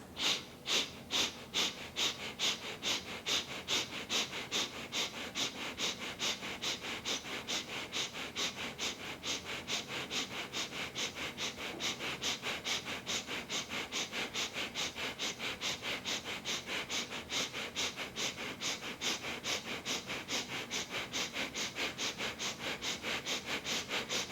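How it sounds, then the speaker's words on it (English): Rapid, rhythmic breath of fire from a Kundalini yoga session: sharp nasal sniffs and exhales pulse steadily and close, dozens in a row for the whole stretch, with no talking. "Breath of fire, my friends."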